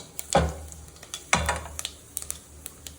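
Whole spices (fennel, bay leaf, cinnamon, star anise and black stone flower) drop into hot oil, giving two sharp bursts of sizzling that fade into a quiet crackle with light ticks.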